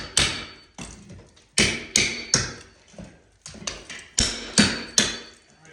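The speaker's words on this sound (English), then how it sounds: "Right now you're just chipping that up. Use a giant chisel." A giant chisel chips old plaster off wooden lath during demolition, giving a series of sharp, close, loud knocks in irregular bursts, each a crisp impact with a brief crumbling tail.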